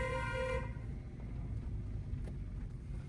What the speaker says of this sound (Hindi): वापस स्पीड मेंटेन करो और लॉन्ग हॉर्न प्रेस करो